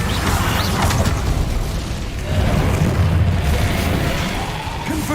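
Fire spell burst in Hogwarts Legacy, a rumbling, booming blast of magical flame that roars continuously and loudly throughout, with a slight swell midway and dense low rumble.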